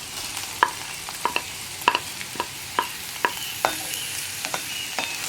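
Chopped onion stirred in a pan with frying okra for vendakka thoran, a constant hiss of oil broken by regular sharp scrapes and taps of a spatula against the pan, close and clear, with no speech.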